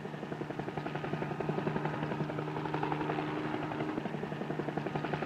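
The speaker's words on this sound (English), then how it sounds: "Do you suppose they know it's Billy flying in the helicopter above them?" Helicopter rotor thudding steadily overhead at a constant, fairly loud level, a continuous chopping drone over a lake scene with no voices.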